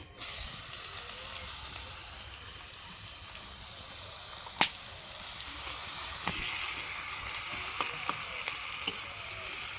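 Chopped onions frying in hot oil with cumin, a continuous bright sizzle and hiss with scattered small pops and crackles, close and steady for the whole stretch.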